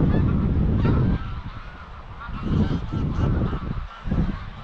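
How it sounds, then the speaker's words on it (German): Three Canada geese fly over honking in repeated harsh, nasal calls, loud and close at first and then in uneven bursts against wind-like noise. "das waren drei Kanada-Gänse."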